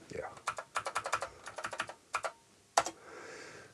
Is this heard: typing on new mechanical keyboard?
yes